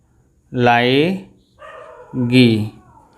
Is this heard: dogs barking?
yes